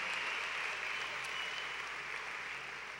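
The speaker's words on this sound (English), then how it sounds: "y'all deserve a great round of applause" A large graduation audience applauds in a broad, even wash of clapping, heard from some distance and holding steady throughout.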